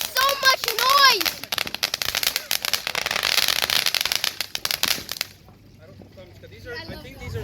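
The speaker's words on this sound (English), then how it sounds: "Look at that, lots of fireworks." Fireworks pop and crackle in rapid, dense bursts with a whistling rocket rising early on, loud and close, while people talk and exclaim over them; the bangs stop suddenly, leaving quieter talk.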